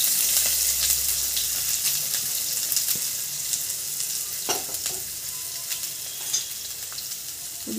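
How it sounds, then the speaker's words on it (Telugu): Chopped onion and green chillies frying in hot oil with tempering spices, a continuous close hiss and crackle with occasional stirring scrapes, no voices. "ఉల్లిగడ్డ పచ్చిమిర్చి బాగా వేగనివ్వాలి."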